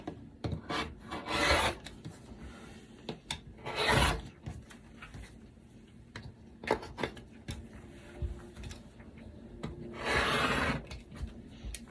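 Scissors trim fabric seam allowance on a quilted table runner: several close, crisp snipping and rasping cuts in bursts, with quieter rustling of cloth between them.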